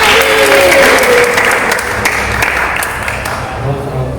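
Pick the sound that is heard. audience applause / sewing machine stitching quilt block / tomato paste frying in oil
audience applause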